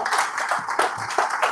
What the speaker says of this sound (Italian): Un applauso a Giuseppe Agostinone.